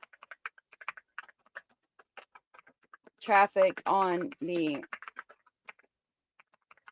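Someone types on a computer keyboard in a quiet room, with a sparse, irregular patter of clicks and taps across the whole stretch, briefly interrupted midway by a few spoken words.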